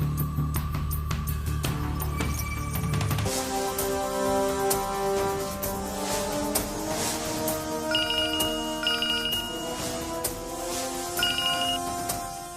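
A mobile phone ringtone plays a bright melodic tune over a long stretch, with repeated electronic tones in a steady pattern after a brief low hum at the start, and no one speaking over it.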